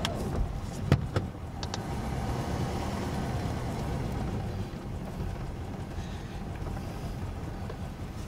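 A 1951 Studebaker Commander Land Cruiser being driven onto a carport, its engine giving a low, steady rumble with a few clunks near the start.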